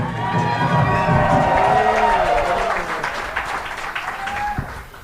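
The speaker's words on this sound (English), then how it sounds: "Come on, people, make some fucking noise." A comedy club crowd at a live roast-style show cheers, whoops and applauds loudly, with shouting voices on top that fade as the clapping thins toward the end.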